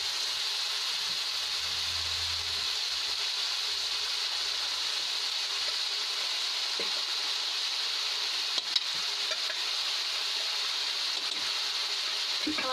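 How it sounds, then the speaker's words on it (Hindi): Rice fries in oil in a pan, a steady, even sizzling hiss that holds without a break, close and constant, with a faint knock now and then. "ये देखिए, मैं चावल को जो है तेल के साथ अच्छे से भून रहे हैं।"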